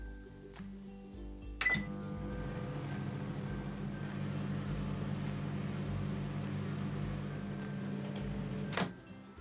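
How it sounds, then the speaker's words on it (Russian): A microwave oven runs at maximum power, cooking a bowl of apples: a steady, even electrical hum holds for several seconds, bracketed by a sharp click as it starts and another as it stops. "Ставлю чашку с яблоками в микроволновку."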